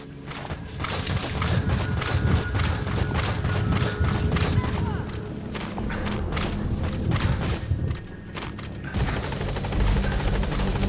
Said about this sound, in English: Support helicopter Roger. requested.